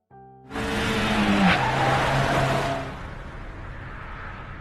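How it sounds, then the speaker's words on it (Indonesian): Film scene of a car nearly hitting a woman: a sudden loud car rush with screeching tire skid that swells for a couple of seconds, then fades into lingering engine and road noise. "Ketika Erica pulang dari kapal Tom, tiba-tiba ada mobil yang hendak menabraknya."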